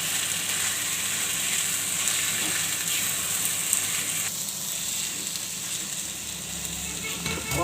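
Poha and potato mixture seasoned with salt and sesame seeds is stirred in a hot pan, giving a steady close sizzle with faint scraping of the spoon throughout, no voices.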